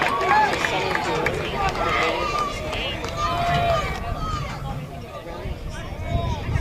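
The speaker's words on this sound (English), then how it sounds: "Crowd already getting into it." Crowd at a high school baseball game, Ridge Point Panthers against Westside, keeps up a steady roar of cheering and murmur throughout, close and fairly loud.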